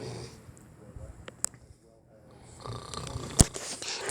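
A man snores while asleep, a few rough breathy snores with gaps between them, fairly close, with someone talking quietly over parts of it.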